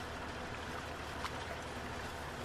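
Water flows in a soft, steady rush in the farming video game Farming Simulator 19, heard alone and quiet throughout.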